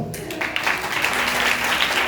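A congregation at a Sunday church service claps together, a dense, steady wash of hand claps that carries on evenly throughout with no gaps.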